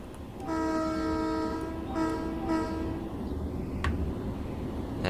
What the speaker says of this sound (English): I just want to get a shot of the train coming through.